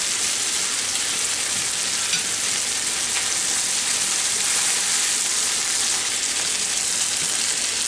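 Cube steak frying in a pan gives a loud, dense, unbroken sizzle that holds steady the whole time, close and alone.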